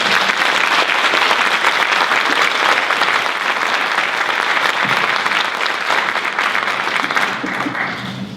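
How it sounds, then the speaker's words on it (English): An audience at a National Honor Society induction ceremony applauds steadily and loudly for several seconds, a dense wash of many hands clapping that holds throughout and only eases slightly near the end. "So let's just give the girls another round of applause."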